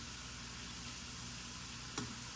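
Food frying in very hot cooking oil, a steady dense sizzle at low volume that carries on without a break, with one brief faint scrape near the end.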